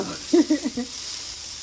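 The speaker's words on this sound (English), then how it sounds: "So my bell pepper are about done. I just wanted to get a little browning on them." Bell peppers sizzle and brown in a hot pan, a steady close frying hiss that runs throughout, with a few faint low vocal sounds briefly near the start.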